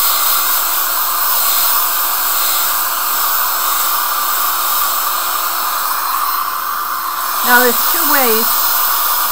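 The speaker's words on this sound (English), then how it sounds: "I have this fantastic Conair Pro Baby hair dryer." A Conair Pro Baby hair dryer blows with a steady, loud whirring hum; near the end a voice briefly speaks over it.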